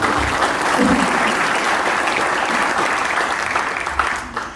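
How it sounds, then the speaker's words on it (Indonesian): A church youth gathering breaks into loud, sustained applause from a large audience, dense clapping that holds steady before tapering off slightly at the end, with a brief faint voice in the mix. "Berikan tepuk tangan buat dia."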